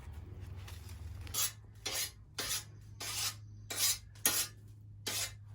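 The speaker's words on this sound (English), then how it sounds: "We gotta scrape it with a file." A file scraped across a hardened metal part, giving seven separate harsh rasping strokes at a slow, fairly steady pace over a constant low hum.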